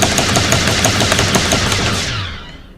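Automatic weapon fire in an Unreal Engine 5 game prototype rattles out in a fast, loud, evenly spaced burst, then stops and a short ringing tail fades away.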